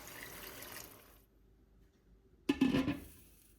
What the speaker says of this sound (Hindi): आलूओं को पकाने के लिए इसमें पानी डाल लेते हैं।